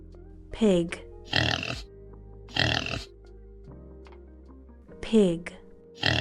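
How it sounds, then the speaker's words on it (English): Pig grunts and squeals come in several short, separate bursts, some rough and some rising, spread over six seconds at moderate loudness, with quieter stretches between them. "Pig."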